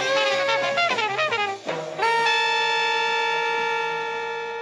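A cluster of bright, clashing tones from several instruments of a free jazz ensemble at once, quickly shifting pitches that settle into a sustained ringing chord, with no voices.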